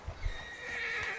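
A horse whinnies in Red Dead Redemption 2, a short, fairly quiet neigh with soft hoof clops at the start and a faint in-game ambient tone underneath.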